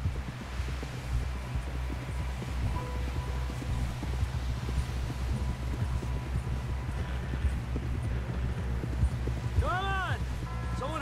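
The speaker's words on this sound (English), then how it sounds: "Someone help John down off this horse." Horse hooves clip-clop in a steady, rapid rhythm in the Red Dead Redemption 2 video game, over a low rumbling background, with a brief high whinny-like sound near the end.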